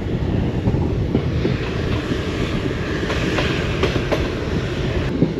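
The Mysuru–Talaguppa Intercity Express pulls out of KR Nagar station, a loud continuous rolling rumble heard from aboard with rhythmic clickety-clack of wheels over rail joints and some wind buffeting, no voices.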